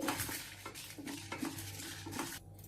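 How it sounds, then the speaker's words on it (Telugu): Quiet dry rattling and scraping as lentils and dried red chillies are stirred and roasted in a pan, with a faint sizzle underneath. "ఇలా కలుపుకుంటూ వేయించుకోవాలి"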